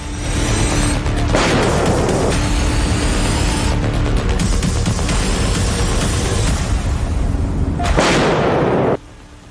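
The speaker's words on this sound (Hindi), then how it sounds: "यूक्रेन की सेना आगे बढ़कर रूस के लड़ाकों पर गोलियां बरसा रही है" Loud, dense bursts of gunfire and blasts from the Russia-Ukraine war in southern Ukraine, over a constant roar, with several sharp surges before the noise drops off at the end.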